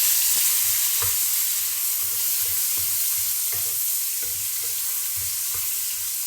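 Ginger and garlic sizzle steadily in a hot pan while a spatula stirs them, producing repeated soft scraping strokes over a constant, close frying hiss.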